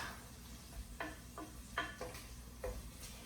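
Onion frying in a pan for burger bundles, a steady soft sizzle with a few brief scraping stirs at intervals, close and fairly quiet with no talking.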